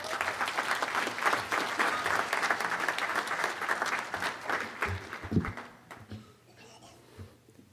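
A commencement audience at Methodist College claps warmly to welcome Dr. James Leonard, steady full-room applause that gradually thins and fades out near the end.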